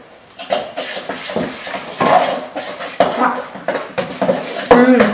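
Homemade slime with added flour stirred in a bowl, heard as irregular clattering and scraping of a utensil against the container, close and fairly loud.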